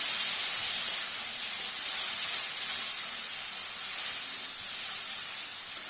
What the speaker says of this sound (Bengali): দিয়ে দিচ্ছি পেঁয়াজ, রসুন, আদার পেস্ট আর শুকনো লঙ্কা। ভালোভাবে কষে নেব।